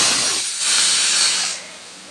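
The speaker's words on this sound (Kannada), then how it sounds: "ಇದನ್ನು ಒಂದು 2 ವಿಸಲ್ ಕುಕ್ಕರ್ ಲಿಡ್ನ ಕ್ಲೋಸ್ ಮಾಡಿ ಕೂಗಿಸ್ಕೋಬೇಕಾಗುತ್ತೆ" A pressure cooker of rice on the stove lets off steam, giving a loud, continuous breathy hiss for about a second and a half before it eases off. Nobody speaks.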